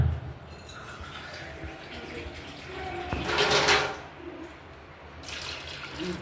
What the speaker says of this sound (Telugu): 2 కప్పుల నీళ్ళు పోస్తున్నా